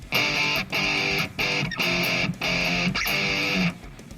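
Distorted electric guitar strums sustained power chords in a steady rhythm, five ringing blocks each cut off by a short muted gap, loud and close with no voice.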